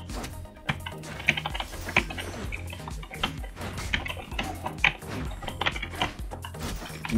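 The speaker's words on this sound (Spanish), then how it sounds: "Mi teclado está todo roto" Rapid, uneven clacking of keys on a broken computer keyboard, with dense irregular strokes and occasional sharper hits, close and steady throughout with no talking.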